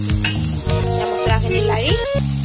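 Spices, ginger, garlic and cumin are added to browned onions in a hot pan for an Assamese duck curry. They sizzle loudly and steadily, with stirring clatter close by.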